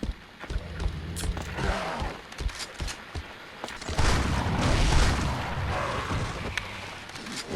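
Gunfire in a video game: a scattered series of sharp, booming shots, some in quick succession, over rumbling in-game background noise.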